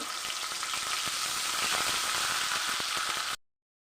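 Ground masala hisses and sizzles in hot oil for a homemade chicken curry, a loud, steady close-up fry that cuts off abruptly into silence near the end.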